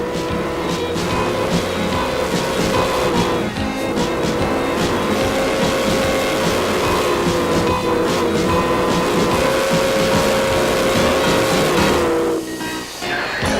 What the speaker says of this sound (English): This engine is called a Porter,